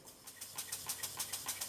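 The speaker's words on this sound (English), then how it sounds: "The engine's running okay, really, to say it was in such a mess when I got it." A rebuilt Stuart Models beam engine with worn Watts parallel motion runs under fairly high pressure, giving a faint, quick, steady series of soft exhaust beats, about six per second.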